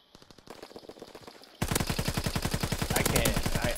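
Rapid automatic gunfire from a video game, dense regular bursts that start moderate and jump much louder partway through, continuing steadily to the end with no talk over it.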